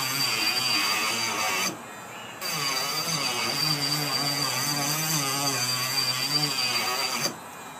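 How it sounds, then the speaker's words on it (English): An axe blade being sharpened gives a continuous harsh grinding rasp, loud and close, broken by one brief pause midway and stopping near the end. "So I'll turn it over and I'll sharpen the other side as well."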